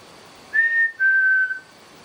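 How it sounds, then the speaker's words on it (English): A person whistles two sustained notes, the second slightly lower, clear and close in an otherwise deathly quiet room. "If I whistle, can you whistle back?"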